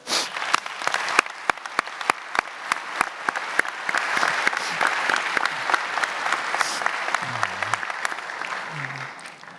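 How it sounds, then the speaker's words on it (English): A commencement audience applauds for graduates. Dense crowd clapping mixes with sharp, distinct claps close by, and it keeps going steadily with a few voices murmuring underneath toward the end. "round of applause."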